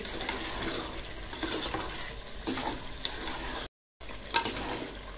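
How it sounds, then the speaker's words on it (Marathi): Onions for a chutney masala fry and are stirred in a pan, a continuous close sizzle broken by repeated scraping strokes of a utensil, with no talk and one short dropout. "शेवटचे काही मिनिट राहिले आहेत कांदा पूर्ण शिजायसाठी"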